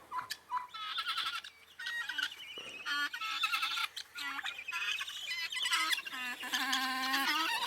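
A flock of turkeys and Brahma chickens squawks and clucks continuously, several birds calling over one another nearby, with gobbling mixed in and no speech.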